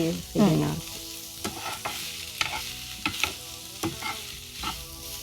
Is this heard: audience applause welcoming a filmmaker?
no